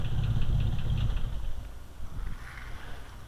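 A 1970 Jeep Jeepster Commando engine idles with a low, steady rumble up close, then eases down in level toward shutdown.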